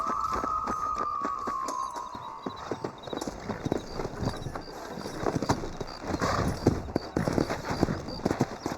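Horse hooves galloping in Red Dead Redemption, a quick, uneven clatter of hoofbeats close by, preceded by a brief tonal whine and mixed with faint background voices.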